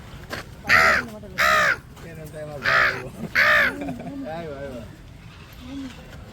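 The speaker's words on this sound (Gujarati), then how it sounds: "બોલે કાકડા બોલે" Several loud caws from crows at a zoo ring out in two pairs close by, with a few softer calls following against a faint outdoor background.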